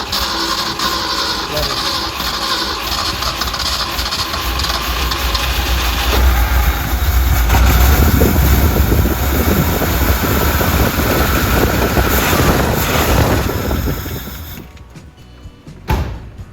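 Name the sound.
1971 Ford engine revving at full throttle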